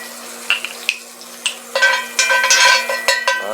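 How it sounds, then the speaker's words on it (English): Beef tallow hits a hot pan, a loud close sizzle with sputtering bursts, scattered scrapes and clinks of a utensil stirring, steady hiss building over a faint hum. "go ahead and add a little bit more of my tallow to the pan"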